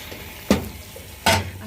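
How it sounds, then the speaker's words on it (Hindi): Meat dropped into a hot tomato puree in a pan, two loud bursts of sizzling about a second apart, each fading into a low crackle, close and alone. "अब मैं इसमें मीट ऐड करती हूँ।"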